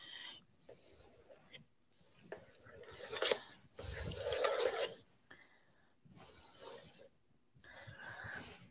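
A chocolate cheesecake mixture is scraped level in a round tin, heard as faint, uneven rasping strokes with short pauses between them.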